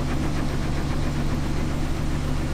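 1970s combine harvester engine running with the PTO engaged during corn harvest, a loud, steady, close diesel drone with constant low rumble and vibration, no talk.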